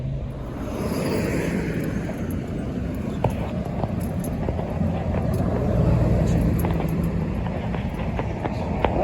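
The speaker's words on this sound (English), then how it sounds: "This town has a lot of traffic" Traffic on a road in the small Texas town of Belton, heard from beside a cemetery: a continuous low rumble of passing cars with occasional faint knocks and clicks, steady and moderately distant.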